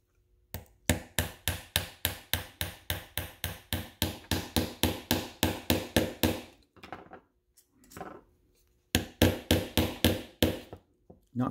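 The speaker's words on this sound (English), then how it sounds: "I take me a pair of pliers to help me put it down on there" Pliers tapping a gear down onto a motor's broken axle: a fast run of sharp, evenly spaced metallic taps, a short pause with faint handling noise, then another quick burst of taps, close and fairly loud.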